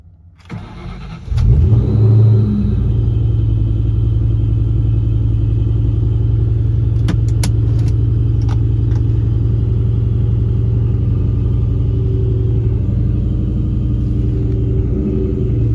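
A red Ford Mustang nicknamed the Terminator, its engine catching and then settling into a steady, deep, loud rumble while driving, with a few faint clicks and knocks inside the car and no one speaking.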